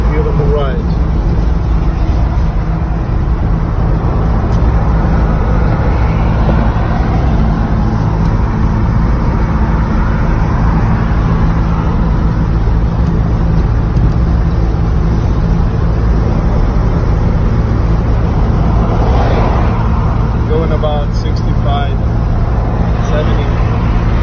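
A 1962 Mercedes-Benz 190SL cruises on a highway, with a steady, loud rumble of engine and road noise filling the cabin throughout while a person talks over it.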